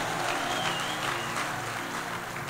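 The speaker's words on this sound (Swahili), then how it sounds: "Situpigie Yesu makofi mazuri." A church congregation claps warmly together for Jesus during a shop-opening blessing in Ruiru, a dense continuous burst of applause from a crowd with no speech.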